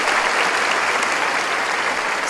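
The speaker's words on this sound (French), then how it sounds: "Un grand applaudissement pour vous tous" An audience at a church Bible study gathering claps steadily in dense, sustained applause that fills the space, loud and even throughout.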